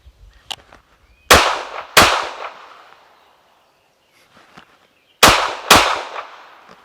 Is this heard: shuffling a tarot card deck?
no